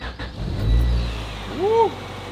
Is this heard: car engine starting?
yes